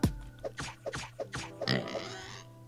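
Video game pigs oinking and grunting in a series of short, separate snorts, several in quick succession, close and clear against quiet game background sounds.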